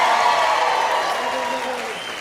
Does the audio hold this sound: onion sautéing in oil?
no